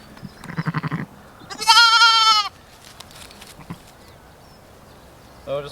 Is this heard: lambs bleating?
yes